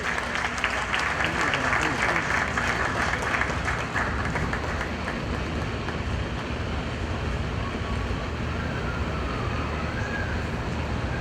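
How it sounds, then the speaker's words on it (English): Sustained crowd applause at an awards ceremony at Manhyia, loud and continuous at first and thinning slightly toward the end, with a voice faintly under the clapping. "Can we do a bigger round of applause for him,"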